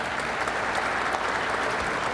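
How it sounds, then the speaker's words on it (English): Steady applause from an indoor audience at a civic event about the Javits Center expansion, dense and even throughout the short stretch with no voices standing out. "Gail Grimmett, let's give them a round of applause."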